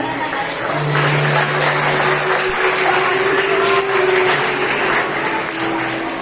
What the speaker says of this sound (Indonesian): tepuk tangan semuanya buat teman kita.